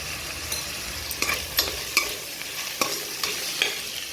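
Chopped tomatoes with turmeric sauté in a pan, a continuous moderate sizzle punctuated by regular spatula scrapes and clicks as they are stirred, near and without voices.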